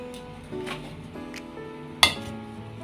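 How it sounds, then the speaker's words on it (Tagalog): Oven-roasted chicken set down on a plate: a few quiet soft knocks and handling noises, then one sharp clink of dish contact near the end, close and otherwise hushed. "Ilalagay natin sa pinggan guys."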